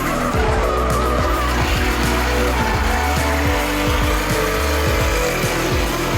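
Drift car skidding with loud tire squeal at an Irish Drift Series competition round, with a revving engine and screeching tires sustained throughout.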